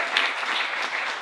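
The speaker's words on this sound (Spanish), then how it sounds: "Os pido un aplauso, por favor, para el equipo rojo." An audience at an improv theatre match claps for the red team, a brief burst of dense, lively applause at even loudness.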